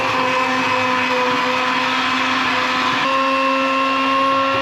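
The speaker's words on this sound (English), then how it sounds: "And now it's time to blend." A blender whirs steadily as it purees a tomato soup in a camper van, a loud, constant motor drone with a slight change in pitch partway through and no talk.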